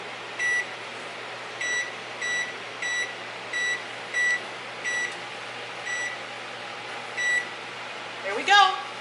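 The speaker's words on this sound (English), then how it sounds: "My timer just went off," A kitchen timer beeps in a steady repeating series of about a dozen short tones, close and clear, before a voice briefly speaks at the end.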